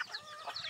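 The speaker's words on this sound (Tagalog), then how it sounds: "Lalo na pag sinalubong ka ng mga alaga mong mga manok." Pet chickens on a small hillside farm give a few soft, quick clucks close by, faint and brief with no talking.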